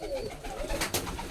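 A Rajshahi Giribaj pigeon coos softly in a short, low, throaty call, close by, with a faint rustle near the end and no talking.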